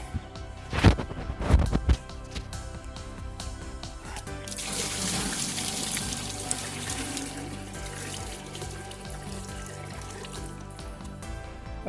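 Water mixed with Azomite is poured for acerola cherry plants, a continuous splashing, trickling flow that starts after a few clunks and runs steadily to the end.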